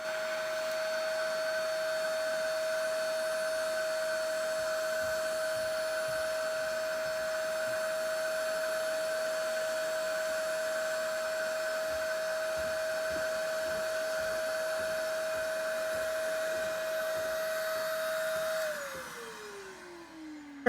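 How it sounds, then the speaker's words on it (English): A vacuum cleaner with a sock stuffed in its tube runs with a steady, high whine for about eighteen seconds, sucking up loose model ore on an HO scale railroad layout, then winds down as it switches off, with no talking. "we'll get our vacuum cleaner, put a sock in the tube"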